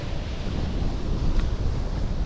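Strong, gusty wind blows by a cold, dirty sea in Anapa on an unsummery morning, a loud, low roar buffeting the microphone in continuous surges, with surf mixed in underneath.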